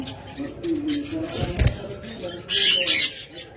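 A pair of parblue lovebirds flap their wings and give sharp squawks in a short burst, the calls loud and close, with a low background murmur.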